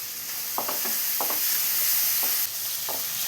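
Chopped onions sauté with salt in a pan for a coconut-milk chicken curry, giving a steady close hiss broken by several short scraping stirs of a spatula.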